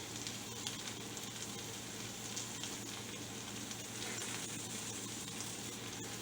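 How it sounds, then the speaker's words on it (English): Zucchini half moons sizzle in olive oil in a skillet, a steady, close, hissing fry that runs evenly throughout with no talking. "these we're just going to place in the skillet for a minute or two"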